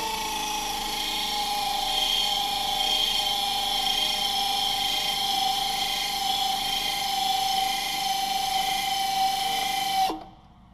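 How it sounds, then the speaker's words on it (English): A power tool buffing down a tire, a sustained high whining grind with a steady pitch that runs evenly for about ten seconds before abruptly stopping. "If any cord material is visible while buffing the tire down"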